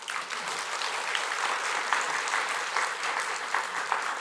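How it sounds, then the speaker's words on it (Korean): A church congregation at an afternoon worship service applauds the choir conductor with a steady, dense burst of clapping that fills the room for several seconds. "우리 지휘자님 박수 한번 치세요."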